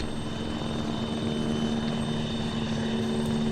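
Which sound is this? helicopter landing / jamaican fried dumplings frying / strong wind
helicopter landing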